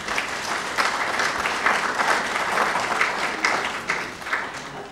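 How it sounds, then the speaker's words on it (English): Mourners at a memorial service break into sustained applause, a warm wash of many hands clapping together at moderate volume, swelling and easing slightly over a few seconds. "You don't often get a clap at a funeral."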